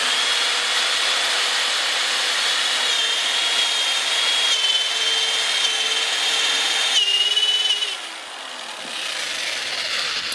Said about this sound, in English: now we're going to drill out the old threads here